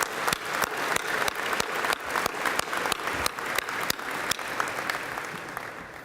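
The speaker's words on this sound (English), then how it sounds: "Please join me in giving them a round of applause for sponsoring the event today." A seated crowd at a chamber of commerce annual meeting gives a round of applause for event sponsors, even continuous clapping that fills the room and slowly tapers near the end.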